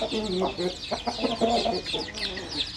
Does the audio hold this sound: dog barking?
no